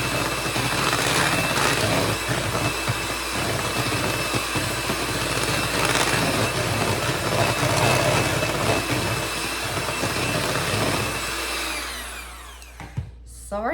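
Handheld electric mixer blending pumpkin bar batter, a loud continuous whirring motor drone with slight fluctuations, close up, running for most of the stretch before cutting off near the end.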